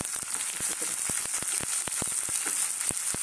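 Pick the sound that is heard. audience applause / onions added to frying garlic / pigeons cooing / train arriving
onions added to frying garlic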